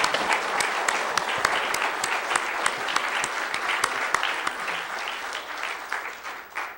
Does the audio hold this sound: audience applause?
yes